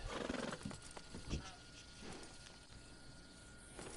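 A horse in Red Dead Online gives a short neigh near the start, followed by faint hoof sounds and soft game ambience.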